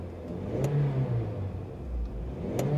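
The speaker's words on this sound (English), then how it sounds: "So I'll give the car a bit of a rev." A 2005 Toyota RAV4 AWD with manual transmission revving its engine, a close mid-pitched hum rising in two throttle blips with a brief dip between, steady and fairly loud with no talking.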